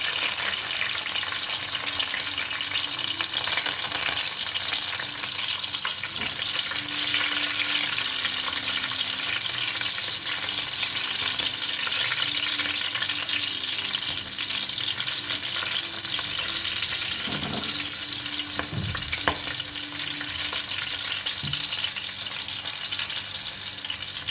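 Green chillies, cumin seeds and curry leaves fry in hot oil for a fish pulusu, a steady close sizzle throughout with a few stirring scrapes near the end and no talking.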